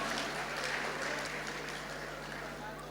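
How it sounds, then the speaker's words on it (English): Audience applause at the Lagos International Climate Change Summit, a continuous soft patter of many hands clapping, fairly faint and distant, over a steady low hum. "Give us a round of applause, come on."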